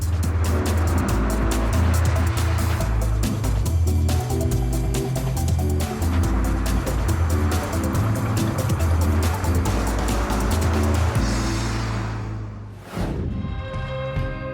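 A 1975 Lancia Beta Montecarlo with a 2-liter four-cylinder mid-engine drives past, its steady engine drone rising and falling through gear changes, then fading near the end.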